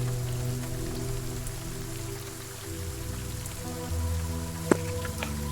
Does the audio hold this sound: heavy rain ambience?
yes